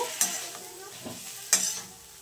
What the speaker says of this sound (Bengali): পেঁয়াজ কুচানো, পেঁয়াজ বাটা, রসুন বাটা, আদা বাটা, লঙ্কার গুঁড়ো, হলুদ দিয়ে ভালো করে আমি এবার কষিয়ে নেব